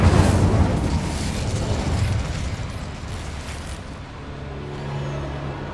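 The Incendio fire spell is cast in Hogwarts Legacy: a loud fiery burst opens, then fades into a rushing, crackling roar that slowly dies away.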